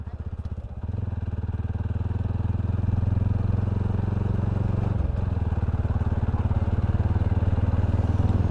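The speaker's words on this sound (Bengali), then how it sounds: "অনেকে এখানে মোটরসাইকেল রাইডিং আসছে" Motorcycles ride along a scenic park road by a bridge, a steady loud engine drone with rumbling low throb that thickens as bikes pass close, briefly dipping around the midpoint before swelling again.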